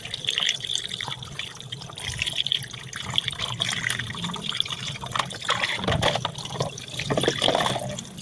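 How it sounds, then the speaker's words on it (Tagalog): Tap water runs over a tilapia as it is washed at a sink, a close splashing flow with hand rubbing and dripping throughout and no talking. "So, ayan. Medyo okay-okay na yung tiyan ng ating gloves. Mm -hmm. Okay, so hugasan lang po natin ulit."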